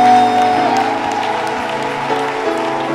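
A church congregation applauds and cheers for Jesus during a sermon, loud clapping and crowd noise that swells at the start then settles into steady applause, with music tones sustained underneath.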